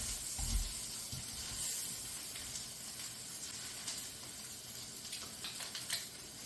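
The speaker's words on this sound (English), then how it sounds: "now we're basically going to just be grilling our sandwich here" A bacon, egg and cheese sandwich grills in a skillet with a soft, continuous sizzle and hiss, faint and steady, with a few light knocks near the start.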